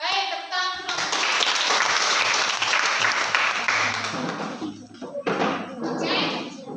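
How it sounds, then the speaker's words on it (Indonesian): Classroom applause for a student group after its presentation: a burst of many hands clapping starts abruptly and holds loud and steady, then thins out, with voices talking at the start and again as it fades. "tepuk tangan untuk kelompok 1"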